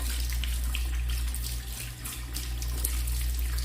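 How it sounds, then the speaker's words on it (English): A tap runs steadily into a sink while hands are washed, a continuous close splashing stream with a low hum beneath it and no talking. "Wash your hands, chat."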